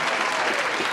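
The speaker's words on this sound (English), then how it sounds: "Round of applause for Shacolby Shentell, ladies and gentlemen" A brief, dense burst of audience applause, many hands clapping together close by for roughly a second, honoring a guest at a spotlight event.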